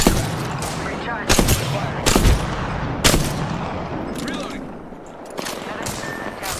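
Gunfire in the video game Apex Legends Season 19: repeated sharp bursts and single shots spread across the whole stretch, loud and close, with game voice lines mixed in.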